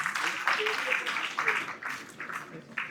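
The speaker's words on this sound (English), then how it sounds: "Again with a big round of applause." An audience at a school cultural education camp in Rameshwaram claps steadily in a dense patter, close and fairly loud, with voices mixed in.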